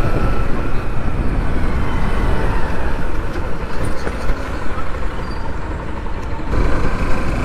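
A car swings through a U-turn, heard from inside as a loud, steady engine drone and road rumble that stays constant throughout, with a brief dip near the end.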